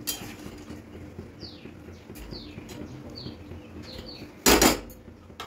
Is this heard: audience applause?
no